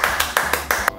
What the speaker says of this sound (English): Can I get you to clap in front of your face?